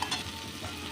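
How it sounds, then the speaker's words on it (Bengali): Prawns marinated with salt, turmeric and chili sizzle briskly in hot oil, a close, continuous frying hiss with light crackle over a single second, with no voices. "নুন, হলুদ, লঙ্কা দিয়ে মেখে রাখা মাছ আমি একটু ভেজে নেব"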